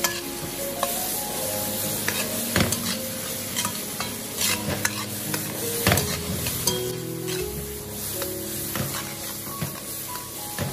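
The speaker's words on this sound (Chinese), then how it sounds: "快速的翻炒几下，将锅内的调料化开，炒至入味，将黄瓜炒至断生" Cucumber and pork are stir-fried quickly in a wok with seasonings. A constant sizzle sits under repeated scraping tosses and clanks of the spatula, close and busy.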